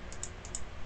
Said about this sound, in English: press N on the keyboard